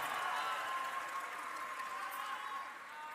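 A crowd at an Indonesian political rally marking 25 years of reformasi gives sustained applause. The clapping is a dense, steady wash that eases slightly toward the end, heard at a distance through a hall or PA.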